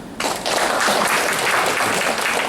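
Audience applauding during a church sermon, a dense, steady burst of clapping that starts abruptly and carries on loudly throughout.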